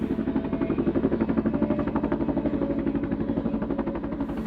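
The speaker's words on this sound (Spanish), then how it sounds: "mientras los helicópteros se alejaban" Helicopters fly over the Andes mountains, their rotor blades beating in a fast, steady thudding rhythm beneath a droning engine hum that stays fairly constant throughout.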